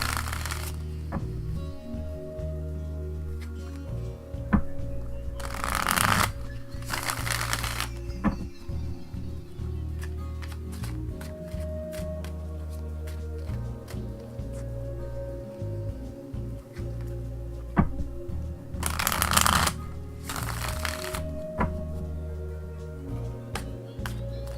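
Tarot cards being shuffled by hand, heard as soft close riffling and flicking bursts in a few distinct rounds, set over a steady low background hum with occasional light taps.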